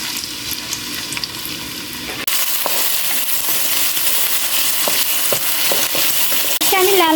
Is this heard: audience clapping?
no